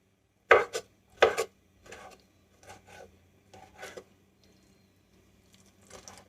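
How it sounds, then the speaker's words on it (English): Knife chopping meat into half-inch chunks on a cutting board for chicken bone broth: two sharp close cuts, then several softer scraping strokes spaced about a second apart, quiet and alone. "we just cut up some 1 by 1 or 1/2 inch by 1/2 inch chunks of this to put in there"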